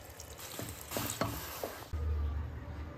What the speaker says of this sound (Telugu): ఇలా కలుపుకుని అయిన తర్వాత కొంచెం వాటర్ వేసుకుందాం.